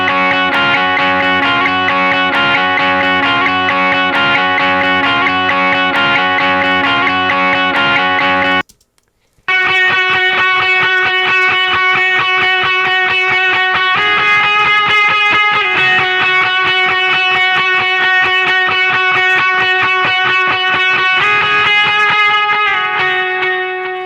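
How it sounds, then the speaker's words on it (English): High-register electric guitar part run through effects, with sustained echoing notes and bright layered harmonics, played loud and continuous for the whole stretch apart from one brief silent gap near the middle. "Next up we have some high note stuff"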